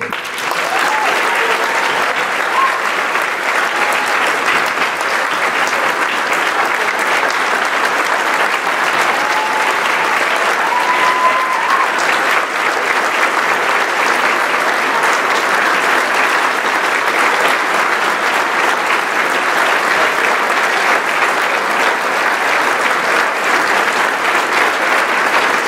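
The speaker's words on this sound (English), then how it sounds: "let's give this class a round of applause that they deserve" Sustained, loud applause from a dinner audience celebrating a graduating medical class, a dense wash of many hands clapping evenly for the whole stretch with no talk over it.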